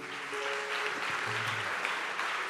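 A church congregation claps along in continuous, even applause that stays steady throughout, with a few faint tonal sounds beneath it.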